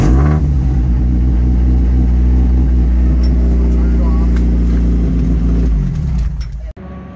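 A Flyin' Miata race car engine cranks, catches and revs, holding a loud, close, rumbling idle for several seconds before cutting off abruptly, with a voice speaking over it.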